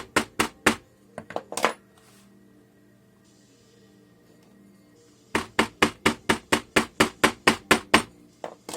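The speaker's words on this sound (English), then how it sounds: "hammer it in there really good so it packs down into those holes" Sharp, loud hammer blows packing red clay into a casting mold in quick rhythmic bursts: a handful of strikes, a quiet pause with faint scraping, then a steady run of about a dozen more hits.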